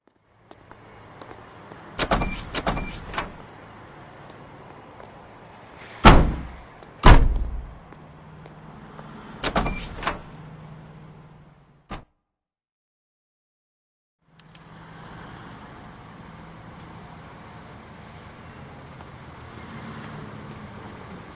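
Car sounds from the video game L.A. Noire on PS4: several sharp door slams and thuds over a low idling engine hum, a brief silent gap, then the engine running steadily again.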